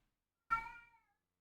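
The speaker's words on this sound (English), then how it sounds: "Can you hear my cat?" A pet cat lets out a single loud, drawn-out meow close by, rising sharply then tapering off over about half a second, with silence before and after.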